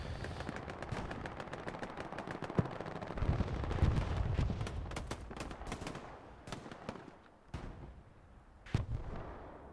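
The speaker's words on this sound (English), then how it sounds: "The Brumbar still firing from a distance down here by Sugar Squad." Brummbar assault gun in the Hell Let Loose video game, a winter league checkpoint match, firing from a distance amid dense gunfire, with repeated booming shots and crackling small-arms bursts throughout.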